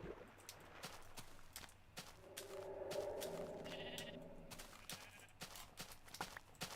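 A Minecraft sheep lets out a single drawn-out bleat in the middle, moderately near, over quiet game background noise with scattered soft clicks.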